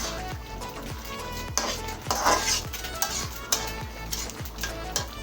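Beef tripe curry being stirred in a home kitchen pot, with a spoon scraping and knocking against the metal in repeated strokes, close and fairly loud, over a faint sizzle.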